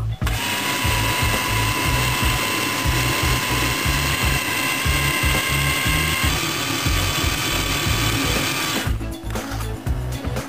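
An electric grinder grinds viburnum berries with sugar, whirring loudly and steadily with a rough, churning texture, running nonstop before cutting out near the end.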